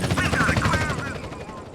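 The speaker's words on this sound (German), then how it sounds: "der Helikopter kommt einfach." Helicopter arriving in the video game GTA San Andreas, a loud rotor roar that fades slightly toward the end, mixed with bursts of in-game gunfire.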